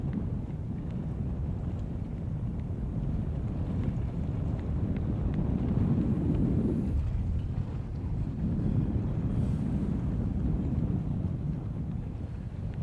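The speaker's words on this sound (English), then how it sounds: "Sorry, it is windy." Steady wind buffets the microphone on Florida's Space Coast, a continuous low rumbling roar that swells and dips across the whole stretch without any voices over it.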